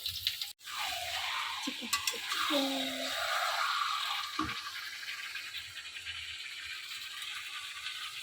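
Marinated chicken tipped straight into a kadai and stirred: a steady, close sizzling hiss with clattering rattles from the pan early on, later settling to a softer fry.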